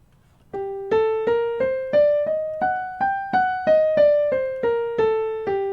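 A G harmonic minor scale on a plucked string instrument, about fourteen even notes climbing then descending, each ringing and decaying, clear and close with no talking.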